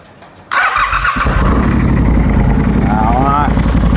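A Triumph Scrambler 1200 XC motorcycle engine fires up abruptly after a brief quiet moment, then settles into a loud, rumbling idle through the exhaust.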